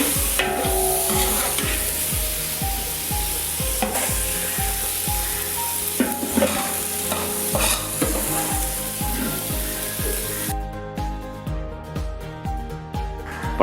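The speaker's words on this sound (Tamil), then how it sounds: "நம்ம போட்ட அந்த வெங்காயம் தக்காளி சூப்பராக ஃப்ரை ஆயிடுச்சு." Onions and tomatoes stir-frying in a pan for a Lucknow-style kushka, with steady loud sizzling and repeated scraping strokes of a spoon against the pan throughout, no talking.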